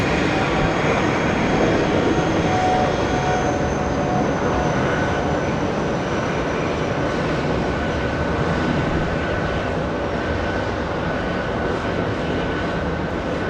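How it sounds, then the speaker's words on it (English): A Boeing 777 jet airliner takes off from runway 13 right at JFK, its engines giving a steady, loud broadband roar that holds evenly throughout with no talk over it. "We have a 777 lifting off."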